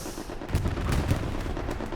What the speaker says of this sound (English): Strafing run coming through flooded house.